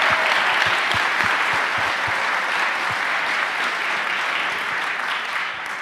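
Dense, sustained applause from a conference audience, a loud continuous wash of many hands clapping with a few close individual claps standing out.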